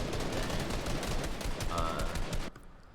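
Rapid video-game gunfire rattles in dense, continuous bursts, then cuts off abruptly into near quiet.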